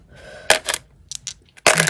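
Several short clattering rattles of small hard objects tumbling on a surface, in quick bursts with brief pauses, close and fairly loud.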